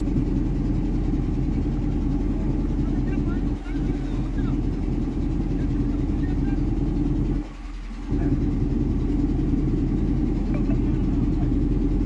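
Trawler boat engine running on the Muriganga river, a steady low rumbling drone that holds throughout with a brief dip near the end, while people talk over it.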